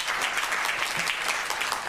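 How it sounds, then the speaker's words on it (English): Studio audience applause for a game show contestant, a dense, steady wash of many hands clapping close and loud for the full stretch, with no voices breaking through. "Round of applause to Pamela."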